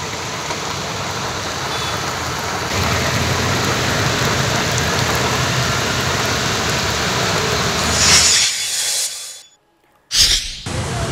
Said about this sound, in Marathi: संध्याकाळी अचानक अंधारून आलं आणि त्यानंतर मुसळधार पावसाला सुरुवात झाली आहे।